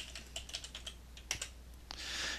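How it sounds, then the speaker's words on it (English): Rapid keystrokes on a computer keyboard while a command is entered in AutoCAD, a run of close, crisp clicks ending in a brief rushing sound, with no speech. "I'm going to type divide from the keyboard"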